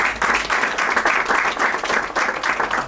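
Wedding guests applaud at a marriage celebration, a close, loud burst of clapping that swells and dips in rhythmic waves across the short span.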